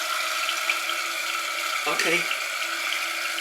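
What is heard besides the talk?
water closet cistern refilling after first flush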